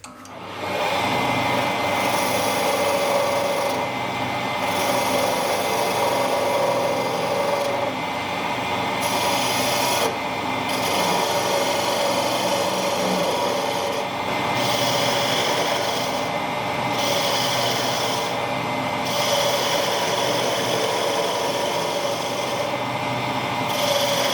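Parting tool cutting into spinning wood on a wood lathe, a steady broadband scraping and hissing cut that runs continuously and loudly, with brief dips as the tool pauses, and no talk.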